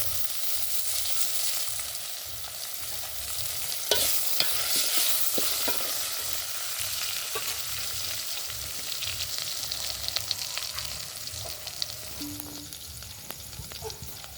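Carrot, ginger and tomato sizzle and crackle after being tipped into a hot khichdi tempering, steady frying with stirring scrapes and a few sharper clinks, close and loud, with no talking.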